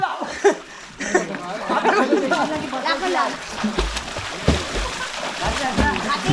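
Splashing and sloshing water from someone jumping into a village swimming hole in Konkan, mixed with lively chatter and chuckling from people nearby.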